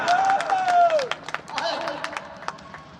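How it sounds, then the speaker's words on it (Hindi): A rally crowd in Bihar breaks into scattered clapping at a 101st birth-anniversary centenary celebration for Babu Jagdev Prasad, the sharp claps following a stretch of raised voices nearby. "तालियां बजाए,"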